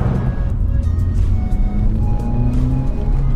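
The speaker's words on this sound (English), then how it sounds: "let's go ahead and take a look at me just going downhill on with this car" A 2017 Honda Civic Hatchback driving downhill on a twisty road, its engine droning steadily from inside the cabin, with low rumble and shifting tonal whine throughout.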